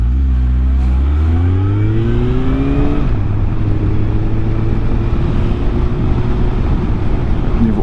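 Honda motorcycle engine in freezing December night weather in Brussels, loud and close, revving up in rising pitch steps and then settling into a steady idle rumble.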